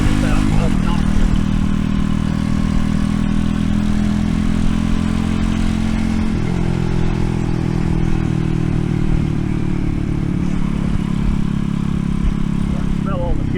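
An RPS Racer 140 motorcycle fitted with a new stainless exhaust runs steadily, a loud, close, buzzy drone with little change across the clip and a slight pitch shift partway through.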